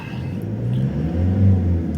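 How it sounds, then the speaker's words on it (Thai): A 2018 Toyota Revo four-door lifted automatic pickup engine runs at a steady, low idle, a continuous close rumble with a slight swell in the middle and no talk over it. "เดี๋ยวเรามาสตาร์ทฟังเสียงเครื่องยนต์กันนะครับ"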